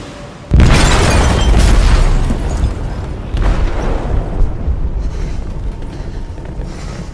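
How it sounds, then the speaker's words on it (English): A heavy explosion erupts in a ship's hold in the video game Detroit: Become Human, a sudden loud boom followed by a rumbling roar that fades, then a second swell of debris noise. "They detonated an explosive in the hold."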